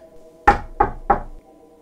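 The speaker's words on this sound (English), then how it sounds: "I arrived at the man's house and knocked on his door" Three firm knocks on a wooden house door in the evening, evenly spaced and close, standing alone over a faint steady background hum.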